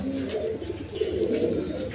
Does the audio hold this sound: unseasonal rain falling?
no